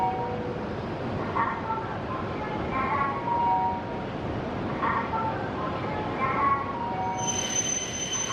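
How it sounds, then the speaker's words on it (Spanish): A Shinkansen train pulls into a station platform in Japan with a steady rolling rumble, repeated high wheel squeals, and a brief chime near the end; background voices are faintly audible. "Este es nuestro tren que está llegando"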